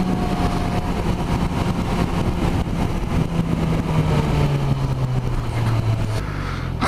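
Suzuki GSX 1000 GT motorcycle engine running in a steady, loud drone that holds throughout, with a low note that climbs slightly toward the end as if revving.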